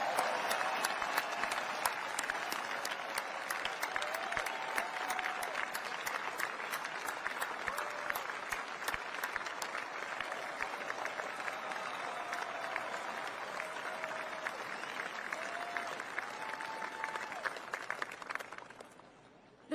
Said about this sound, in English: please join me in a round of applause for our team